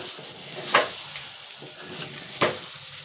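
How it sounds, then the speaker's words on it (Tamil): Egg frying in a pan is stirred, with a steady sizzle and two distinct scraping strokes of the utensil against the pan, close and fairly quiet. "நம்ம இந்த ஸ்டேஜில் நம்ம கிண்டி விடுவோம்."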